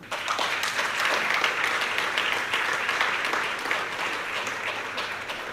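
Audience of Polish diplomats applauding at an event in Berlin, dense sustained clapping from a crowd at steady loudness throughout, with no speech over it.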